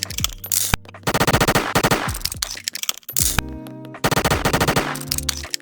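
Rapid bursts of gunfire from a gun in a Roblox game, with loud repeated shots in quick strings broken by short pauses, heard alone without talk.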